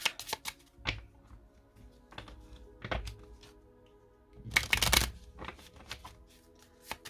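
Oracle cards being cut and shuffled by hand in a quiet room: soft riffling bursts and light taps, with a longer flurry of shuffling midway and scattered single card slaps, no talking.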